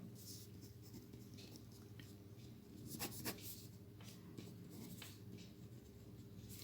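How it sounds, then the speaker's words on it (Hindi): Pen scratching out a handwritten note during a maths lesson on remainders in division, a faint steady scribble over low background hum with one slightly louder stroke, no talking. "तो यहाँ एक नोट लिखते हैं"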